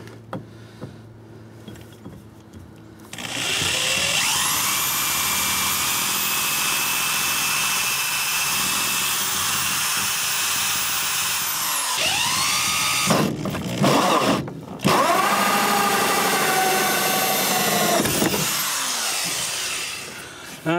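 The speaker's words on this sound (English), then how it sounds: "Try not to drill through the back side of the panel." A power drill whines at high pitch, drilling holes in a Chevrolet Silverado truck body panel, running steadily for several seconds, stopping, then starting again in short bursts, close and loud.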